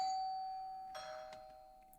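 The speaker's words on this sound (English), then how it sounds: "Ding dong." A doorbell chimes once in a visual novel PC game, a soft ding-dong tone followed by a brief brighter burst of sound, quiet and clean over near silence.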